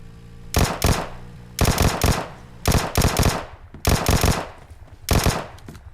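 Bursts of automatic fire from a Vector in PUBG Mobile ring out in five separate loud, rapid volleys with short pauses between them, close and sharp with no talk.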